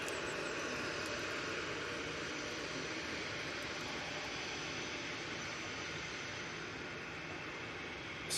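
An Icelandair airliner landing at Manchester Airport, a continuous broad roar of engine and airflow noise at moderate distance, steady throughout with no voices.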